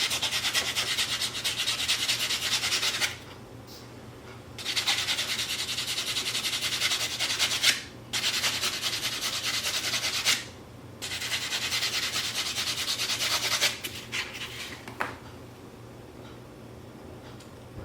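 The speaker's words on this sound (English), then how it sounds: "A little more sanding. Check that edge." Steady, close sanding strokes on a 90% silver coin ring rasp in long continuous runs, pausing briefly a few times before resuming.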